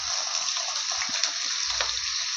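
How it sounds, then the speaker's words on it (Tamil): Chopped ginger sautés in a pan for Tamil-style mint chutney, a steady close sizzle and hiss of frying with faint stirring scrapes throughout. "இதை நல்லா வதக்கிக்கலாம்."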